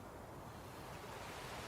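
Ocean waves in a comedy film scene, a steady low surf wash with a faint roar, with no voices.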